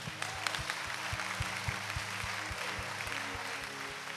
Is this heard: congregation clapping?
yes